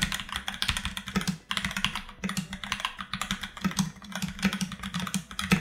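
Rapid, continuous typing on a gaming keyboard with red switches, close and fairly soft, with dense irregular key strikes and short pauses, no voices.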